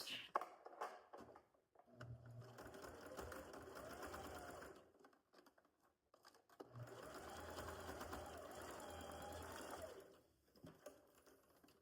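A sewing machine stitches a simple thin seam along the outside of fabric pieces, two steady faint whirring runs of rapid needle chatter separated by a short pause, with brief clicks at the start and end.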